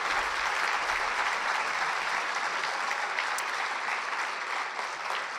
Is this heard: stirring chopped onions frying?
no